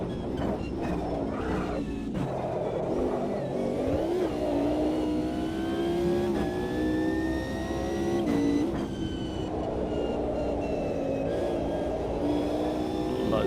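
Racing car engine in a sim racing game, revving hard and shifting through gears with rising and falling pitch sweeps, loud and continuous throughout with no talk.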